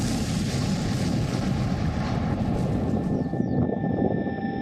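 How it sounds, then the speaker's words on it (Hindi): Russian Sukhoi Su-25 military jets flying over the Donbas region, a loud, steady broadband engine roar that holds throughout and thins slightly near the end, with no voices. "डोनबास के आसमान में उड़ान भर रहे ये रूस के सुखोई 25 विमान हैं"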